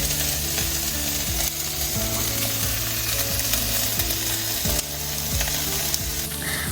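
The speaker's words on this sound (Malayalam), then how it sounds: "ഇപ്പോൾ ബാക്ക്ഗ്രൗണ്ടിൽ നമ്മുടെ പയറും കോവയ്ക്കൊക്കെ ഉപ്പേരി ഇങ്ങനെ ഉണ്ടായിക്കൊണ്ടിരിക്കുകയാണ്." Green beans and ivy gourd sizzle steadily as a stir-fry in a pan, a loud continuous crackle with occasional scraping and tapping from stirring.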